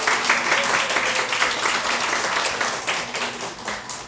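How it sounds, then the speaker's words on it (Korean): Church congregation applauding together in a sustained round of clapping, steady and fairly close, with a faint voice underneath. "우리 감사한 마음으로 또 박수 한번 하겠습니다."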